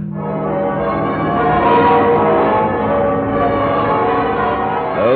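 Westminster Abbey's church bells peal on VE Day in London, a dense, continuous clangour of overlapping tolls, loud and reverberant on an old, band-limited radio recording.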